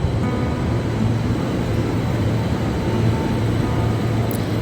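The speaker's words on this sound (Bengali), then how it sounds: "এখন স্টেশনে চলে এলাম গল্প করতে করতে এখন ট্রেনও চলে এলো" A steady, heavy rumble of a train rolls on continuously with low droning noise and no voices, as if the train is pulling into a station in Switzerland close by.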